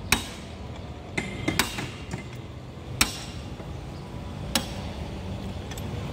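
Hammering blows against a metal jeep bolt nut to break it off rather than unscrew it, a handful of sharp metallic strikes spaced irregularly over a steady low background.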